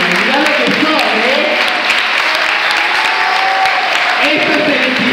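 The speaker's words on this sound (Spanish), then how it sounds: "Fuerte el aplauso para estos cinco bailarines" Loud, sustained applause from an awards-show audience for five dancers, thick continuous clapping with a voice cutting in briefly over the first second and again near the end.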